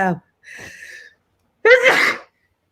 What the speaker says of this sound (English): this is the most sneezes ever